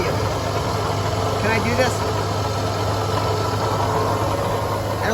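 A 1988 Ford car with an overcharging electrical system idles in a steady, low droning hum, with a person speaking briefly over it.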